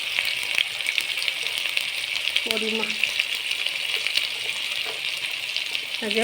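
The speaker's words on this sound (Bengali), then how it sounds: "দিয়ে মশলাটা ভালো করে কষিয়ে নেব।" Spice paste with salt and turmeric fries in oil in a pan for a pointed gourd dish, a steady close sizzle with a brief ringing clink of the utensil midway and another near the end.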